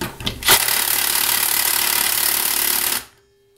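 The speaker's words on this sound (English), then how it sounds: "Well, let's try our impact driver." An impact driver hammers at a stubborn bolt in a loud, close, continuous rattling burst that lasts about two and a half seconds and then stops abruptly, leaving near silence.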